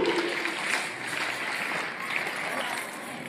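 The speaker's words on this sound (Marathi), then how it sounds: "स्काउट पद्धतीने टाळ्या वाजवून या नृत्याचं आपण स्वागत करूया" An audience at a school Republic Day event claps together to welcome a dance performance, a dense continuous burst of applause from a crowd.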